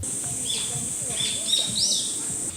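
Faint birds chirp and tweet in short calls over a constant high buzzing hiss of cicadas in a cypress forest on Mudeungsan.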